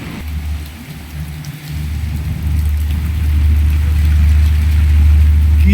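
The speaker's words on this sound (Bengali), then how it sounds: "শুধু বৃষ্টি আর বৃষ্টি।" Heavy rain pours outside an office in a dense, steady hiss that grows louder and fuller over several seconds, with a low rumbling wash beneath and no talking.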